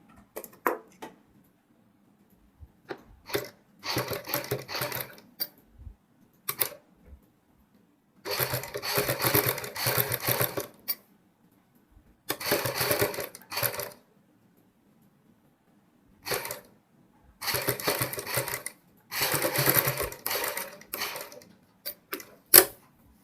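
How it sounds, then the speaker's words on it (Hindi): Sewing machine stitching lace onto a garment neckline, running in short irregular bursts of rapid ticking stitches with pauses between, close and moderately loud, no talking. "इसी प्रकार आप बहुत ही धीरे धीरे से ये सिलाई कंप्लीट करोगे।"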